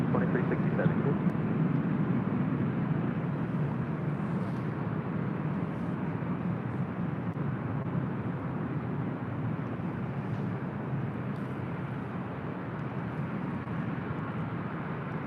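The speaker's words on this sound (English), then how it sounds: "This one, Southwest Airlines Flight 2401 heading to Nashville" Southwest Airlines jet departing runway 24 left at LAX, a steady broad distant jet engine roar holding level throughout, with faint voices underneath.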